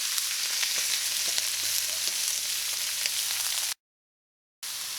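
A cabbage mix fries in a pan for a cabbage thoran with mustard seeds. The sizzle is loud and steady and hisses on its own for several seconds, then a brief silent gap breaks it.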